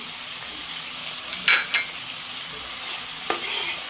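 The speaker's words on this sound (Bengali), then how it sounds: "গরম মশলা এবং পেঁয়াজ ভালো করে একটু ভেজে নিব" Garam masala and onion fry in a pan with a soft, steady sizzle, while a few sharp scraping clatters come from stirring, close by with no talk.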